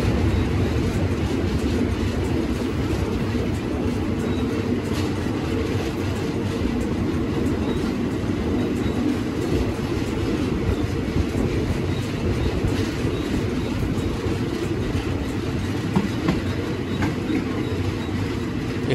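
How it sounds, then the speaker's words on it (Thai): Thai express train no. 135 from Krung Thep Aphiwat to Ubon Ratchathani rolls steadily along the line at a construction site for new track, a continuous loud rumble of wheels and wagons throughout with no talk. "ขบวนรถเร็วที่135ต้นทางกรุงเทพอภิวัฒน์ปลายทางบนราชธานี กำลังเคลื่อนขบวนเข้าสู่แนวเส้นทาง"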